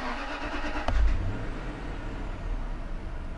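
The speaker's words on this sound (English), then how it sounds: "We're going to start the engine and we'll see what happens here." A Land Rover LR3 engine cranks and catches with a short low burst near one second, then settles into a steady idle rumble; nobody speaks.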